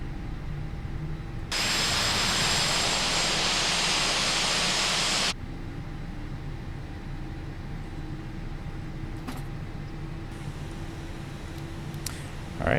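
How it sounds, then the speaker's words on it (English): An Air Canada airliner's number one jet engine spooling up at start, heard as a steady broad roar that holds for several seconds and then cuts back to a lower cabin hum with faint clicks, with no talking. "engine 1, good engine start."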